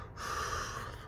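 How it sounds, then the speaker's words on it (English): Labored breathing after eating a hot Yellow Fever pepper: a single close, harsh, snorting breath, strained and noisy. "labored breathing"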